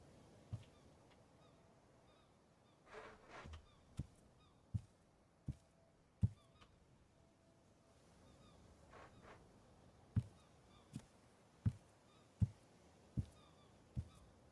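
Seagulls calling in the survival game Escape the Pacific: faint, scattered cries drifting in twice, amid a steady low background and a series of sharp, isolated clicks.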